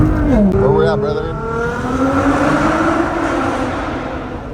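A Nissan GTR engine drives close by, a steady rising and falling drone with a gear change early on and tire noise underneath, while people talk over it.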